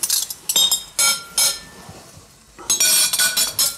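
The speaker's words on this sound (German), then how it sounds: "Besteck nehme ich nochmal raus." Metal cutlery being taken out in a home kitchen, with sharp bright clinks in short clustered bursts. A few seconds of quiet fall between them before another run of rattling clinks, all close and without talk.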